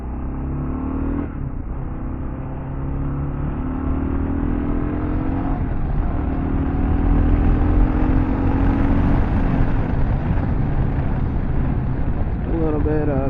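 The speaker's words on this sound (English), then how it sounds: "A little bit of engine braking while we're out here." KLR650 motorcycle on a test ride with a newly fitted skid plate, its single-cylinder engine droning steadily under engine braking as wind buffets the microphone and a rider talks.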